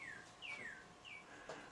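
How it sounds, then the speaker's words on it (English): A bird gives a few clear, descending whistled notes, faint and somewhat distant, in short phrases against quiet outdoor background noise. "Yeah, beautiful bird."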